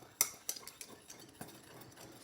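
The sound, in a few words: glass stirring rod stirring copper sulphate reaction mixture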